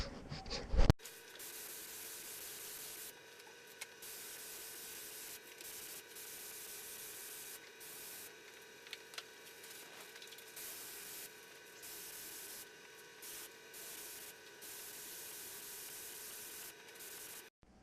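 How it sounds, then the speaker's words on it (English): Spray gun laying primer onto a Lincoln lowrider car body, a steady close hiss running for most of the stretch with brief pauses and small clicks between passes. "Got a little bit of primer mixed up, got it in the gun."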